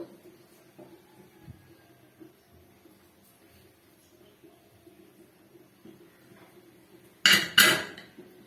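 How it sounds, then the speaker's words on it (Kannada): A pressure cooker lid is closed on rava upma in a kitchen: after a quiet stretch, two sharp metallic clanks sound close together near the end. "ಕುಕ್ಕರ್ ಕ್ಲೋಸ್ ಮಾಡ್ತಾ ಇದ್ದೀನಿ."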